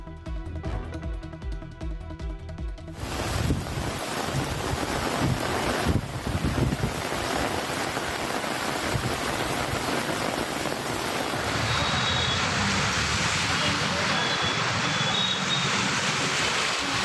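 Strong gale winds with heavy rain buffet the microphone in a dense, continuous roar, loud and unbroken after a brief musical jingle at the start.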